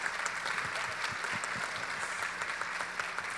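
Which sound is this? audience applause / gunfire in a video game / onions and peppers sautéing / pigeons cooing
audience applause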